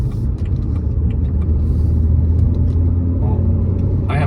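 A car engine runs steadily in economy throttle mode, a loud, continuous low rumble with little change in pitch and faint voices in the background.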